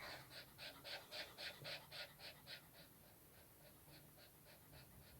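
A dog pants quietly nearby in quick, even breaths that are clearest over the first few seconds and then fade lower.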